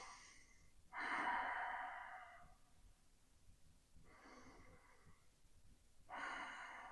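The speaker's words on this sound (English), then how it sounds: "I'm actually just breathing, and my child can hear me breathing" Slow, deliberate breathing up close, long audible breaths in and out with pauses between them, soft and alone with no talking.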